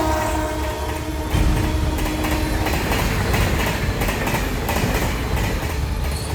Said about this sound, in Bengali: ট্রেনটা দ্রুত গতিতে আমার চোখের সামনে দিয়ে বেরিয়ে গেল।